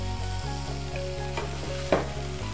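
Onions, ginger and garlic sizzle steadily in a pan for courgette soup while a spoon stirs through them, with a steady frying hiss and one louder scrape near the end.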